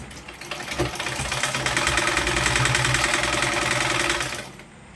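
A sewing machine runs steadily at night while stitching blouses, a close, fast, even mechanical whirr that speeds up briefly at the start and stops abruptly near the end.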